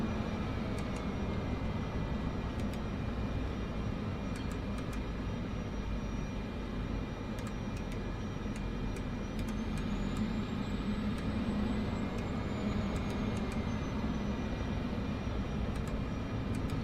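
A Cessna turboprop in Microsoft Flight Simulator 2024 taxis toward general aviation parking, its engine holding a steady, continuous drone with a thin high whine gliding up and down, no voices over it.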